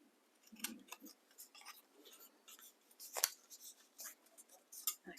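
Scissors make small, crisp, close snips as they cut angles into paper for a junk journal, a quick irregular series of short cuts in a quiet room.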